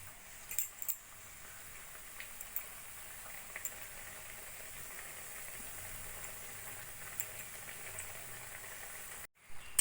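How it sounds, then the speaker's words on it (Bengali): Gujiya frying in oil over a low flame, a faint, steady bubbling sizzle with a few light metallic clinks. "একইভাবে লো ফ্লেমে আমি বাকি গুজিয়াগুলো ভেজে নেব।"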